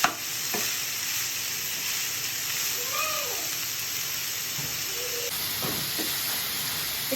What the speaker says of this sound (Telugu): ఇట్లా కూర అంతా ఆయిల్కి కలిసేలాగా కలబెట్టుకొని